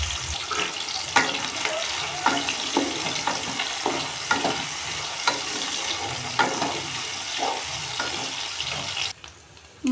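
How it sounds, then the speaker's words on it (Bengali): Prawns coated in salt and turmeric fry in hot mustard oil in a wok, a bubbling, spitting sizzle with rhythmic bursts, steady and close, that quiets abruptly at the very end. "নুন হলুদ মাখানো চিংড়ি মাছগুলো ভেজে নেব"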